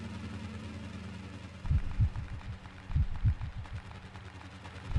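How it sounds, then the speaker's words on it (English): A heartbeat sound effect from the horror video game Evidence: The Last Ritual: low, muffled double thumps pulse steadily over a constant dark ambient hum, with no talking. "Don't like the heartbeat."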